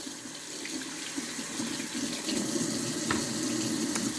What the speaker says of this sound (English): take each carrot and run it under the water